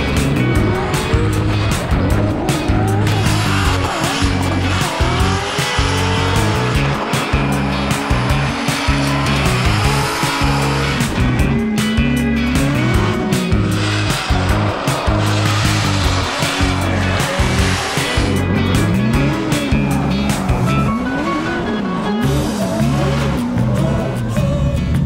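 Race car running hot laps on a track on a very hot day, engine roaring steadily and loudly throughout with repeated revving, gear changes and occasional tire squeal as it corners.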